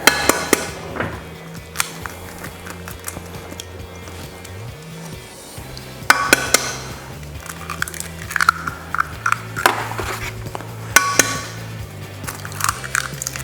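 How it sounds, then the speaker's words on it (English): Whole eggs cracked one at a time into a pot with melted butter, heard as a few sharp, close cracking taps spaced several seconds apart over a steady low background hum. "I'm just literally gonna take the eggs, crack them one at a time and put them in the pot"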